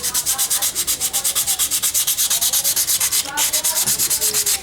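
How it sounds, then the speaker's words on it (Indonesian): Rapid, steady back-and-forth strokes of sandpaper rubbing over a motorcycle drum brake shoe, loud and close, continuing without pause. "Selanjutnya kita gunakan amplas untuk membersihkan permukaan dari"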